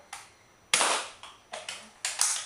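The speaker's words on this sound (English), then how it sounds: "shoot the Nerf Elite Strong Arm" A Nerf Elite Strong Arm blaster fires several sharp, snappy puffs with short bursts between them, close by and crisp against a quiet room, with no talking.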